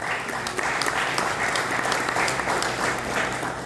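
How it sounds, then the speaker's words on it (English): A crowd at a Kenyan–American partnership gathering gives parents a sustained round of applause. The many hands blend into an even, unbroken patter at a moderate level, with no voices on top. "And clap for the parents also"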